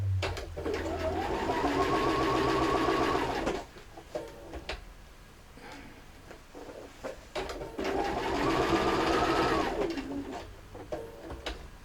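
Sewing machine running a seam on a boot bag, heard in two long, steady, close stitching runs of about three seconds each, separated by quieter fabric handling.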